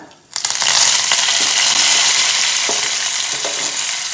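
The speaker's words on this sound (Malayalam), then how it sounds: "കടുക് പൊട്ടിയതിന് ശേഷം അതിലോട്ട് വറ്റൽമുളകിട്ട് കറിവേപ്പില," Dried red chillies and curry leaves hit hot oil after mustard seeds have popped, tempering for a mango pulissery; a loud, dense, steady sizzle bursts in after a brief quiet start and carries on close up.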